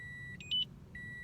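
Dashboard chime of a 2020 Toyota Corolla as the ignition is switched on: a steady high electronic tone cut by a brief cluster of louder beeps, then the tone resumes, close and clear over a faint low hum.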